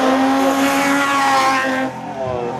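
A closed production race car roars past on a hillclimb course at a French national event, its engine loud and sustained, then fading as it moves away.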